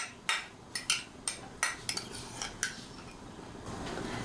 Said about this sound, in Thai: จากนั้นนะคะผสมให้ทุกอย่างเข้ากันดีค่ะ